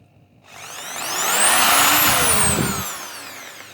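Bosch EasyImpact 550 impact drill spinning up from silence, its whine rising in pitch to a loud steady peak, then slowing and winding down, running alone with no one talking.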